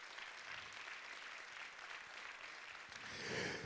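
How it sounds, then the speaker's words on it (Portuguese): A church congregation applauds during a Portuguese sermon, the steady clapping sounding faint and distant in a reverberant room and swelling slightly near the end. "Quem pode dar uma salva de palmas para esse Deus maravilhoso?"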